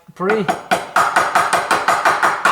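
Sharp, regular hammer taps on a metal car brake part, about ten evenly spaced blows ringing close by, with a brief murmur of voice at the start.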